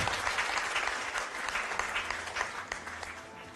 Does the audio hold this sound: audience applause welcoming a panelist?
yes